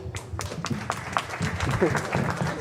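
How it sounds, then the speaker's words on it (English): Audience applause at a mayor's community night out, heard as scattered claps that build into a fuller round, with talking mixed in over the clapping. "big round of applause, please"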